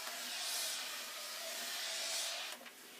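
Steam iron hissing steadily as it presses fusible interfacing onto fabric, a continuous airy rush that swells and eases in two long strokes, with a soft clunk near the end.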